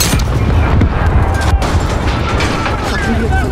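Explosive detonation in Call of Duty Modern Warfare: a loud, continuous roar of blast and gunfire-like rumble with crackling debris, close and heavy throughout.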